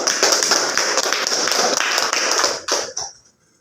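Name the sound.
applause for a student group in a class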